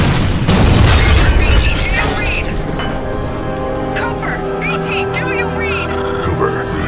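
A heavy, booming explosion from the Fold Weapon firing in the Titanfall 2 video game, loud and rumbling for about two seconds before fading into a sustained droning tone with faint voices underneath.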